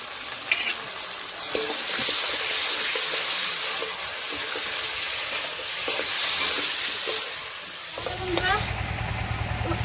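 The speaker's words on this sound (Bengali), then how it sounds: "পুরো মশলা ভাজা হয়ে গেছে" Spice paste of ground chilli and ginger sizzles and is stirred in a hot pan while cooking a katla fish curry with potato and cauliflower, a steady bright hiss with scraping strokes and brief clinks throughout.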